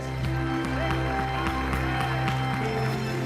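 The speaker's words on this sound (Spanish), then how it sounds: "Dale un aplauso grande al Señor de señores" Church congregation applauding to the Lord, sustained clapping mixed with a steady musical drone and low sustained tones, moderately loud and continuous.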